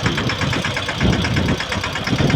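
A Yuvraj tractor engine idling during farm sowing work, a loud, close, steady rhythmic diesel throb with a knocking pulse and vibration throughout.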